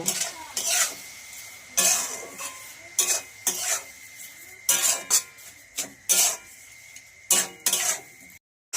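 Sugar is stirred into elephant apple (chalta) pickle on a plate, a series of close scraping strokes in short bursts separated by brief pauses.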